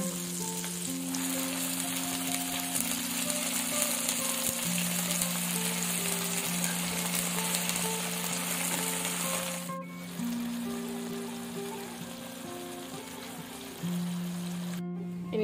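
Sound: spinach sizzling as it is stir-fried in a pan

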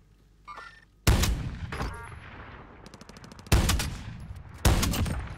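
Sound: gunfire in the video game Call of Duty Warzone

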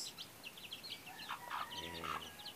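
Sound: hen clucking with chicks

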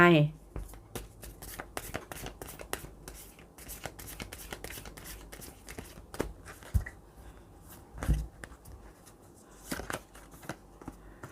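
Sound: tarot cards being shuffled and drawn

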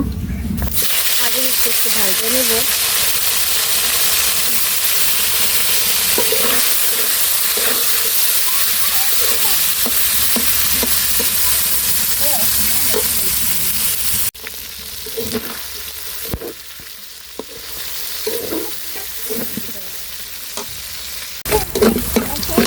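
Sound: frying pangas fish in a pan

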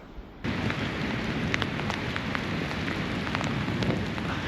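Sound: rain

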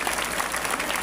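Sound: congregation applauding to acclaim God

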